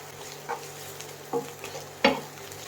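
Onion, ginger and garlic fry in a pan with a low steady sizzle, punctuated by three clear scraping clacks of stirring, the last one loudest.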